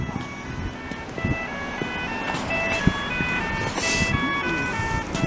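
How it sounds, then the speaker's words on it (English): A pedestrian crosswalk signal on a Montreal street beeps in a repeating electronic tone pattern, clear over traffic noise and footsteps, while someone talks nearby. "Not many crosswalks that have that tone around in Montreal actually"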